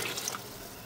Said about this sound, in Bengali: এখন আমি এর মধ্যে দিয়ে দিচ্ছি কুসুম গরম পানি